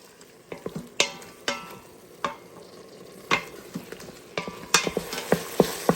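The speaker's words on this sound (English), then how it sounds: "let's start cooking up this ground beef." Ground beef fries in an Instant Pot, a soft sizzle beneath repeated sharp scrapes and clacks of a utensil stirring against the pot, irregular and close, growing busier toward the end.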